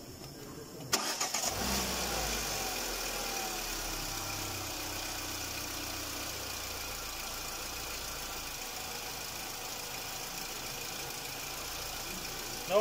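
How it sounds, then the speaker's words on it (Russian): A car engine cranks and catches with a brief rough burst, then settles into a steady, droning idle that runs on evenly for over ten seconds, with no voices over it. "Давай, заводи машину."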